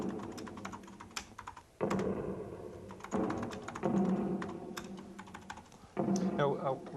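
Keys clatter on an Amiga computer keyboard in bursts of quick typing, close and fairly clear, with brief pauses and some background speech-like murmur underneath.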